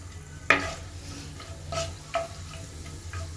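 Whole spices, bay leaf, cinnamon pieces, cardamom, cloves and black pepper, fry lightly in oil for a chicken potato curry, with a few separate stirring scrapes and soft sizzles over a quiet low hum.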